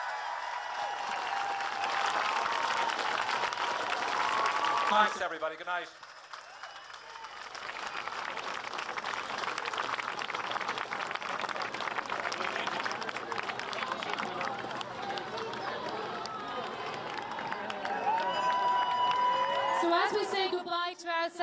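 A large Dublin audience at a Freedom of the City award ceremony gives sustained, loud applause with cheers and whoops. It dips briefly, then swells again while a voice speaks over it near the end.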